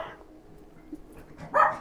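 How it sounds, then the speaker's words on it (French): A small pet dog lets out one sharp, high yapping bark near the end, close by, after a stretch of quiet room sound. "Excusez pour mon petit chien, là, mon petit chien jappe souvent des fois."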